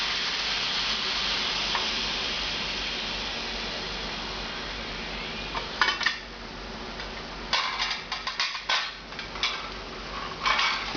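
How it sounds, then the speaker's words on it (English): Lid lifted off a pressure cooker of braised pork for a French pastry dish: steady hiss of steam at first, then a run of metallic clanks and scrapes of the lid and pot, close and fairly loud. "We're going to crack the lid on this and see what it looks like"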